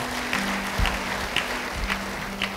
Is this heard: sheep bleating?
no